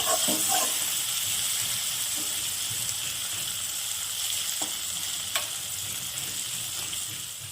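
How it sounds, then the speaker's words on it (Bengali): Giant freshwater prawns fry in hot oil in a pan, a loud, dense, close sizzle that holds steady, with a few light metal taps near the start and middle. "বাকি মাছগুলো আমি ভেজে নিচ্ছি।"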